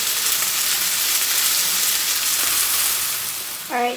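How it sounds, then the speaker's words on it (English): Beef browning in a pan, giving a steady, loud hissing sizzle that runs without a break, with a short tonal sound right at the end. "The beef is still cooking and still browning."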